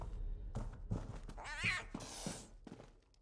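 A cat in The Elder Scrolls Online gives a couple of close, rising meows mixed with soft thuds, heard alone without talk.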